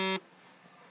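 A Facebook notification chimes during the mobile game Gangstar Vegas: a single short, bright electronic tone, clear and close, that stops abruptly after a fraction of a second.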